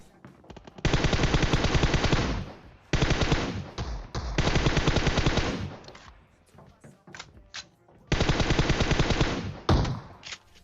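Rapid automatic gunfire from the mobile battle-royale game PUBG Mobile, several loud sustained bursts of machine-gun fire with short gaps between them and a few single shots near the end.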